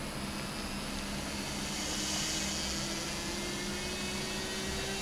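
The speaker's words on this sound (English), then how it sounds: "you will be able to hear the propeller spin up" Thin electric whine of a PowerUp paper plane propeller motor spinning up, a faint rising tone over steady hiss, with no talking.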